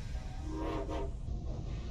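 A train departing in a Roblox remake of the Poppy Playtime game gives a brief horn or whistle blast over a low rumbling, fairly loud and close, with no talking.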